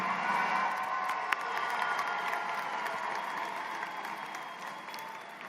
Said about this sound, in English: give them a big round of applause to them